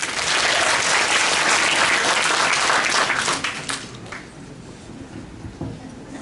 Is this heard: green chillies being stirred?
no